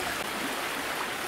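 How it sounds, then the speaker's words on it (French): Small river, the Ostrobert, flowing near Duclair where it meets the Seine, giving a steady broadband rush of running water that stays even and continuous throughout, with no voices. "Voici l'Ostrobert, une rivière de 18 km et qui se jette dans la Seine à Duclair."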